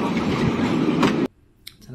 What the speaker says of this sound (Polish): Tramwaj jedzie.